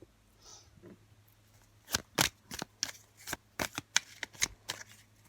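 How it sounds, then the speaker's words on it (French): A tarot card is handled and drawn from a deck: soft rustling leads into a quick, close run of crisp paper flicks and snaps at low volume, with no voices. "prendre une carte de tarot"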